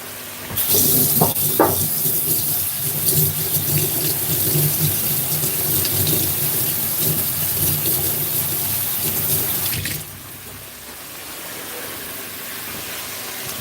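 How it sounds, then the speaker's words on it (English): Tap water runs loudly into a kitchen sink while celery stalks are rinsed under it, a steady gushing splash with a few sharper clunks, then the flow softens and quiets near the end. "I'm gonna wash them off."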